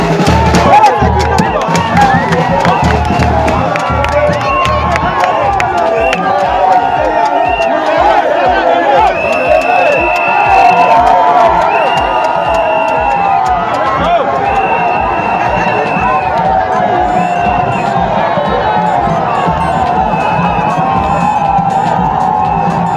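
Dense crowd of political supporters at a Cameroonian unity day rally, cheering and whooping continuously with a steady rhythmic beat underneath, loud and close, with speech mixed into the babble.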